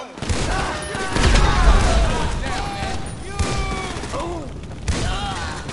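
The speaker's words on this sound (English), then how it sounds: "About time you cracked them grenades." Repeated grenade blasts and heavy gunfire from a firefight in Grand Theft Auto V, forming a loud, dense rumbling barrage with sharper bursts layered over it and talking running throughout.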